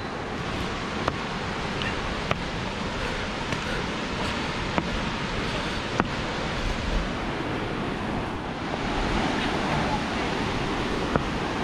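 Ellenborough Falls in New South Wales, Australia, pours as a steady, dense rush of falling water. The roar is continuous and even throughout, with a few faint clicks.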